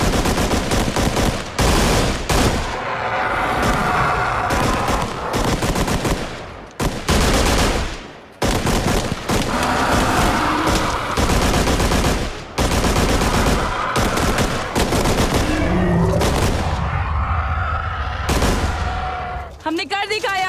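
Loud bursts of automatic gunfire and heavy shots crack in close succession during an action scene, with rapid rattling volleys broken by brief pauses, mixed with dramatic effects and occasional voices.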